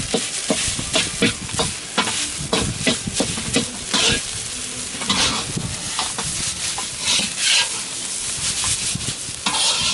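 Rice is stir-fried in oil in a wok over a Big Green Egg grill. Steady close sizzling runs under rapid, irregular scraping and tossing strokes of a spatula against the metal, and no one talks.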